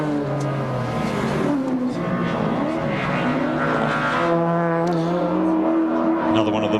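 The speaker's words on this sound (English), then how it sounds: "Another one of the massive Bob Holden Corollas that come up here every year." A Toyota Corolla touring car climbs the mountain at Bathurst during the 1991 Bathurst 1000, its engine revving loudly and continuously through rising and falling gear changes as it passes close by.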